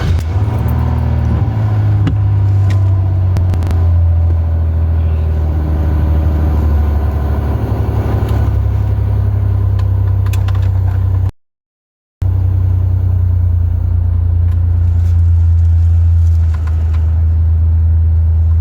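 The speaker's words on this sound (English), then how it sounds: "let me cut my car on" A car engine running at night, a steady low rumble that stays close and loud throughout, with a brief cut-out partway through.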